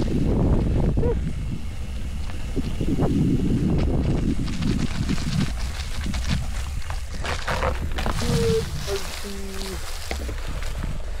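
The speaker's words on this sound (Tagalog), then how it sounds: "sobrang hangin" Wind buffets the microphone in heavy, rumbling gusts during a mountain bike ride in Bulacan, Philippines, with voices and movement audible underneath.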